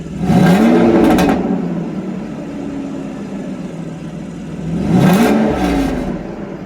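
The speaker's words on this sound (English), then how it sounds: "Let me just see if I can rev it up a little bit." A large V12 engine in a 1995 Mercedes S600 AMG idles, then revs sharply twice, once at the start and again near the end, its roar rising and falling between steady idling.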